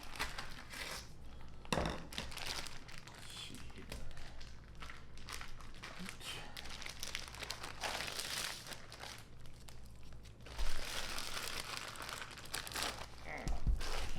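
Plastic packaging being opened on a Costco brisket, steady close crinkling and tearing of wrap continuing for several seconds, with occasional louder rustles and no talking.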